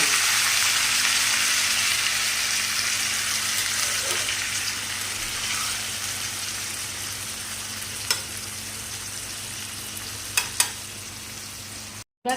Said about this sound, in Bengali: কড়াতে দিয়ে দিয়েছি সাদা তেল কারি পাতা শুকনো লঙ্কা সর্ষে এই যে আজকে চিকেনটা একটু ভাজা ভাজা মতো করব